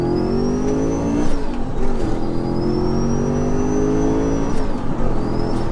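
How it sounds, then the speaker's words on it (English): A 730bhp Audi RS4 with a rear-mounted turbo V8 pulls hard through second gear, its loud engine note climbing steadily with brief dips at shifts and a whistling turbo whine riding above, close and continuous. "Let's give it a second gear pull and just see how it goes."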